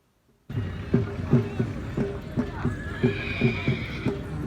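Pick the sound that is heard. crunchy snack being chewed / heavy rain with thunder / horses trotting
horses trotting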